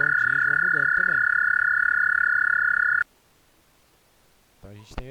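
A frog croaking in a steady, pulsing run for about three seconds, loud and close, over a constant high electronic tone, then near silence before a short burst at the end.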